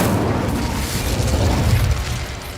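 Incendio fire spell cast in Hogwarts Legacy, a sustained roaring burst with a low rumbling boom that stays loud and steady for a couple of seconds, no voices.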